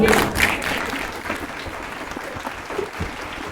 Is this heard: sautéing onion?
no